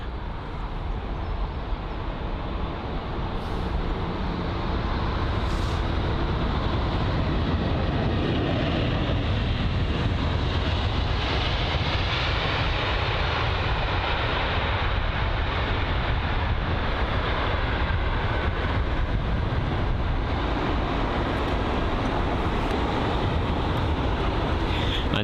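British Airways Airbus A320 jet near London Heathrow, a continuous broad engine rumble and roar at steady loudness for the whole stretch, with no clear speech.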